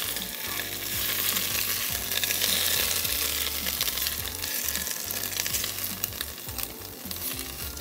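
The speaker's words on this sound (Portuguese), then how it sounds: "Eu preciso que ele murche aos poucos para que a gente tenha um cozimento perfeito do espinafre." Steady sizzling and crackling of spinach wilting in a hot frying pan with olive oil, with occasional stirring scrapes, close and continuous.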